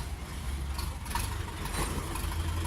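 A Dongfeng 404 tractor with a KM engine idles nearby. It gives a faint, steady low thrum with a few soft knocks on top and no changes in speed.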